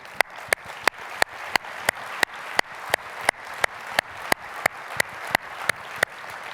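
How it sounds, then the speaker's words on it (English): Clapping at a NetApp INSIGHT 2024 keynote comes as sharp, evenly spaced claps about three per second, rhythmic and distinct. "I want to give a big round of applause to all of them."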